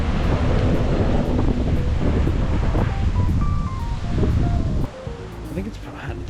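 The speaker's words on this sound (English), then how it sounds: "It's windy as fuck." Strong winter wind roars across the microphone on top of Snake Hill during a bike ride, a dense continuous buffeting rush that dominates throughout and eases slightly near the end.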